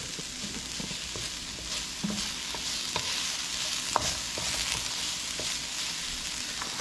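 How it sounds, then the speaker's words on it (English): Long beans stir-fried with a wooden spoon in a non-stick pan: a steady sizzle throughout, with the spoon scraping and tapping against the pan at an irregular rhythm, close and moderately loud. "I'm using my wood spoon because I have a non-stick pan. Now this is stir fry"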